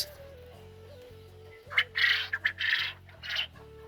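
Pet quail that have just started laying eggs give several short, harsh squawking calls close by. The calls come in bursts over a low, steady, repeating tonal background.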